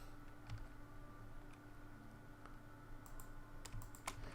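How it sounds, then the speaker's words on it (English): Faint, quiet clicks come from a computer mouse and keyboard while playing Infinity Skyblock, scattered irregularly over a low, steady background hum. "Shift click, click, click."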